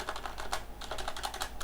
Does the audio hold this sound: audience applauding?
no